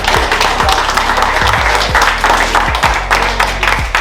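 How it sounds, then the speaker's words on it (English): A short round of audience clapping, loud and close, with brisk uneven hand claps running under low voices and a thumping beat in the background. "Alright, round of applause."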